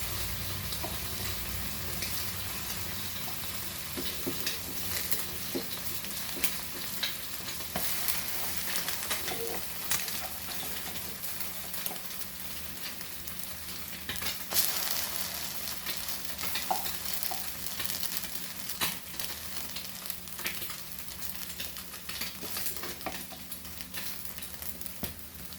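French toast frying in a pan over medium flame, a steady close sizzle and crackle with a continuous hiss that holds throughout without pause.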